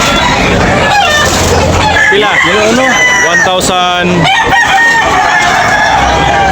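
Roosters crowing and chickens clucking at a busy live chicken market in Tabunok, Talisay, Cebu, with loud overlapping crows, including a strong close crow midway, over steady crowd chatter and voices.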